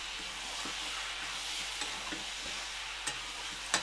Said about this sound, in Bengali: জিরে মরিচ ধনে গোলমরিচ দিয়ে আবার কষে নেবো এইভাবে